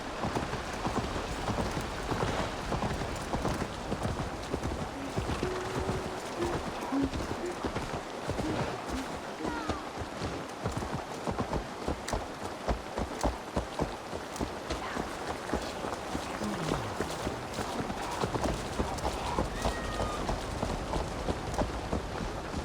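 A horse gallops in Assassin's Creed Valhalla, its steady run of hoof clops carrying through the whole stretch against a dense, rain-like wash of background noise.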